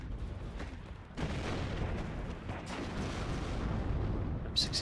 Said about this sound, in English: M67 firing that recallless rifle as some infantry support.